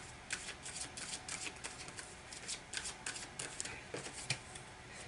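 Tarot cards being shuffled by hand: a quiet, continuous riffle with soft flicks and small taps, close and faint, without talk.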